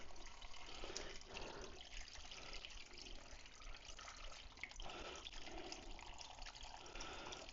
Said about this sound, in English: I'm gonna put 6 pints of water in here.